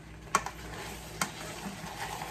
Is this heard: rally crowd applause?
no